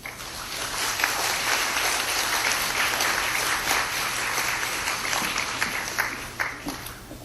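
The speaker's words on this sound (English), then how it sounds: "Please give her a round of applause." A workshop audience gives a round of applause, dense steady clapping from many hands filling the room for several seconds before tapering off near the end.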